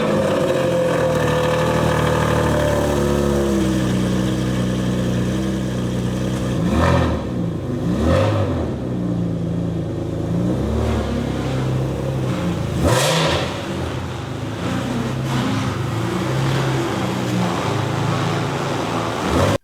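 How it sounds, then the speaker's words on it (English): Car starting up outdoors, then idling and revving several times in rising, falling bursts before settling back; the engine is close and loud throughout. "I'm just going to show you the car and it's starting up"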